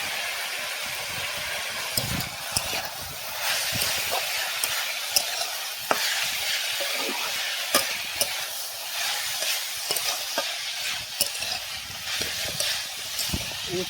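Bitter gourd and potato fry in a pan with salt, turmeric and chili powder, a steady hissing sizzle broken by sharp scraping and stirring clicks throughout, close and fairly loud with no talk.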